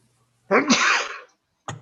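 A single loud sneeze bursts out nearby in a quiet room, followed by a brief voiced sound.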